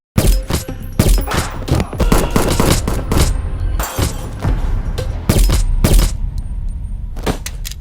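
Rapid bursts of automatic gunfire, loud and close, firing in several clusters with brief gaps between them.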